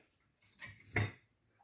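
Non-serrated steak knives clink together as they are handled, with a few faint, close metallic taps and one brighter chime.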